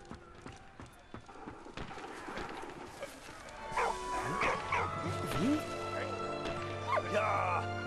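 A dog in the World War I video game Soldats inconnus: Mémoires de la Grande Guerre gives soft yips, whimpers and short barks against quiet game sounds, with a voice talking over it.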